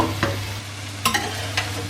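Food frying in a pan gives a steady sizzle under a low hum, broken by a few clattering stirs and scrapes.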